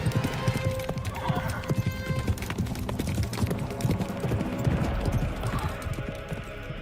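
Horse hooves gallop over soft grass in a rhythmic, steady clip-clop, a close, busy sound effect with faint snorts mixed in.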